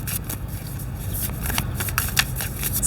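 Tarot cards are shuffled up close, a quick run of papery riffles and soft slaps that repeats in uneven bursts, with only faint background room noise.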